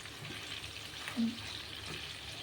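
Garlic fries in a pan while being stirred, giving a faint, steady sizzling hiss with a brief soft scrape midway. No talking is heard.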